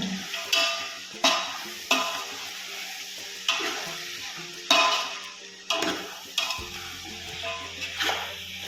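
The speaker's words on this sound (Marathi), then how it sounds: "आता आपण मीठ टाकलेलं एकसारखं सगळं हलवून घ्या" Vegetable pulao with salt just added is stirred in a pot, the spoon scraping in regular strokes about every half second over a quiet sizzle, close and without talk.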